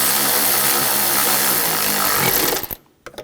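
A power tool tightening bolts on the intake of a 2007-2013 BMW X5 3.0L inline-six during an intake gasket replacement, a loud continuous whirring burst that cuts off abruptly, followed by a few short clicks.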